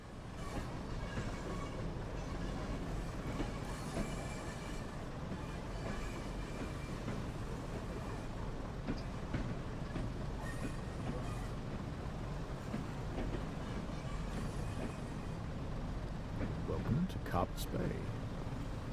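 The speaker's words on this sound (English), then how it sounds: "Keep rolling, little train, you're nearly there." Train rolling on rails in the Train Sim World 2 video game, a steady low rumble with soft wheel clatter and a brief squeal near the end, while someone talks over it.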